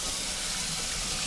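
Cold tap water running into a kitchen sink while cooking pasta, a steady close gush of noise-like splashing with no pauses.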